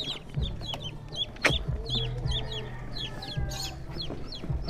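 Chickens clucking and calling repeatedly over a steady low hum, the sound of live chicks being carried during a courier delivery; the bird calls are fairly close and continuous, with a few louder thumps mixed in.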